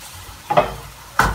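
Pancakes sizzling in a frying pan, with two brief scraping sounds over the steady hiss as they are flipped.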